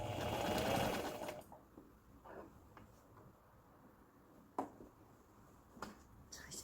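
A sewing machine briefly stitches the facing of a hooded coat with a quick close whirr, then stops. After that only soft handling sounds and a few sharp clicks follow in a quiet room.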